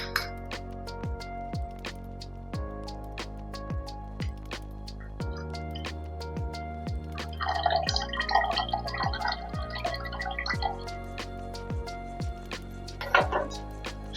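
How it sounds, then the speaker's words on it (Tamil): Yeast mixture poured into sugar water for a homemade CO2 setup for a planted aquarium, with a steady run of close drips and clinks, then a brief bubbling, splashing patch midway and another splash near the end. "ஈஸ்ட்டை நல்லா மிக்ஸ் பண்ணதுக்கப்புறம் இந்த சுகர் வாட்டர் இருக்குல்ல அதில் வந்து நம்ம வந்து ஊற்றிடணும்."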